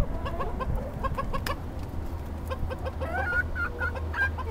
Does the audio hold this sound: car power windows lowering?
no